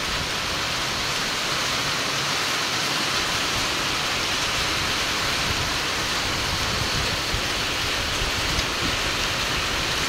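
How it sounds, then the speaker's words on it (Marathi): Heavy rain pours in a dense, constant hiss, loud and unbroken from start to finish. "परत आता जोरात पाऊस सुरू झाला आहे"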